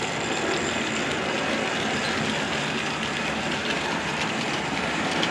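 Model steam locomotive hauling freight wagons along a track, a steady dense rolling rumble with faint rhythmic clatter, constant and fairly loud throughout with no voices.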